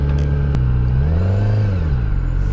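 A QJMOTOR SRK250RD motorcycle engine revs up close, its loud note climbing and then falling back toward idle in a single smooth swell, with a sharp click near the start.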